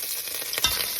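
Spoonfuls of bacon grease melting in a Dutch oven style Instant Pot give a steady, close frying hiss with one brief scrape partway through.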